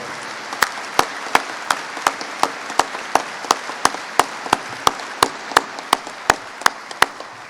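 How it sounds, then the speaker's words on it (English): A ceremony audience applauding at a POW Return with Honor commemoration, a steady wash of many hands clapping, heard fairly close, with one sharp, regular clap standing out about twice a second. "One more round of applause for our presenters today."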